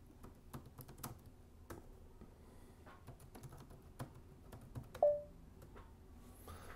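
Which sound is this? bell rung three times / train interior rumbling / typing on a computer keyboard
typing on a computer keyboard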